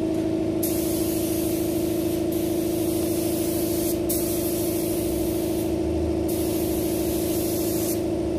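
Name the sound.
spray gun spraying car paint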